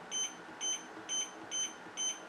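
Small HONMICON mini dehumidifier control panel gives five short, evenly spaced electronic beeps, about half a second apart, clean and fairly quiet over a faint background hiss.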